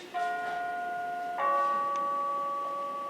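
A doorbell chimes in a two-tone ding-dong inside a house during a stage comedy: two clear, sustained bell tones, the second one starting about a second later and ringing on loudly, with no talk over it.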